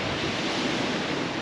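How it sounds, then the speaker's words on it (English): Surf and strong wind on Chesil Beach at Abbotsbury, a steady loud broadband wash of big waves rolling in, blended with gusty wind noise on the microphone, no voices. "Occasional big wave rolls in, you just got to be careful here."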